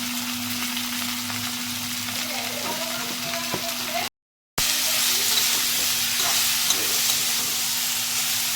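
Chili paste frying in a pan with steady, close sizzling and occasional stirring scrapes throughout, broken by a brief gap of silence midway; a faint steady hum sits underneath.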